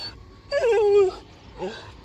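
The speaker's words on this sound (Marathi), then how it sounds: "त्या घराकडून कुत्री ओरडतात" Dogs at a nearby house give a couple of fairly close whining yelps, one longer cry followed by a shorter one, over a quiet background.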